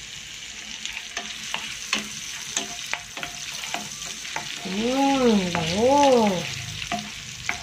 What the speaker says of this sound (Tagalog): Okay, so start na tayo mag-saute. Okay, maglagay na tayo ng ating ginger.